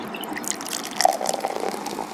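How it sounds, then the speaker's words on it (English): Water trickles and splashes as it is poured into a bottle for a homemade lava lamp, a soft, steady liquid stream with small gurgles, fairly quiet and close, with no voices. "we're just going to pour the water."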